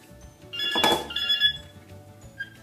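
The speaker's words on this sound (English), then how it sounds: "Oh, is that the phone?" A telephone rings indoors in a home, one fairly loud trill with bright steady tones lasting about a second, then a softer echo and quiet room noise.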